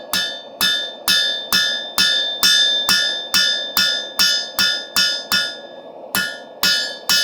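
Hammer blows forging a steel knife blade, drawing out the distal taper: about a dozen loud, evenly spaced ringing strikes with a metallic clink, each decaying quickly.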